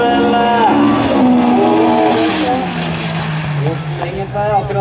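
Rallycross car engines revving hard at the start of a club race in Sigdal, close and loud, pitch climbing through gear changes, with excited commentary running over the top.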